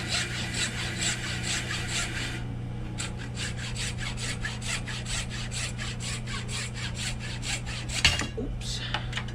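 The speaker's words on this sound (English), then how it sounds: "So you can tell, even with a hacksaw, it takes a while to get through it." A hacksaw rasps steadily through a piece of dense lignum vitae wood, even back-and-forth strokes up close for the whole stretch, ending with a brief clatter.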